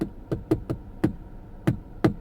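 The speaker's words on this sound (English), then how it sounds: "Let me see if I can knock on something and you can hear it." Someone knocks on a hard surface in a loose, irregular pattern of about seven sharp raps, close and distinct, with no talking.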